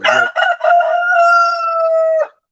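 A single loud rooster crow close by, starting with clipped notes and stretching into a long sustained call that ends abruptly.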